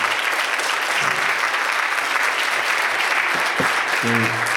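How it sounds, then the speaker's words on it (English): Steady applause for panelists at a church forum on mass incarceration, a continuous wash of clapping from a sizable audience, with a few brief voices near the end. "Can we give all of our panelists a round of applause?"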